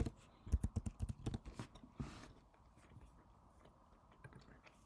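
Rapid keyboard typing on a computer keyboard while entering a password, a quick burst of close, crisp key clicks followed by a few scattered taps against faint room noise.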